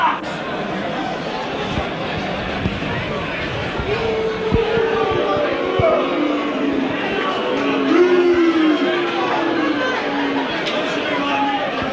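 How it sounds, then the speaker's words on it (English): A rugby league crowd at York versus Keighley vents its feelings at a player sent off, with a continuous broad roar of jeers and shouting from the stands that swells slightly midway. "the crowd just exercising their right to vent their feelings"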